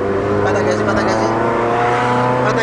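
A car engine drones loudly and steadily as the driver presses the accelerator, its harmonic hum holding a sustained pitch throughout, with an instructor's voice talking over it.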